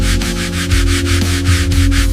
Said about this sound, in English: A scrub brush cleans tough dirt.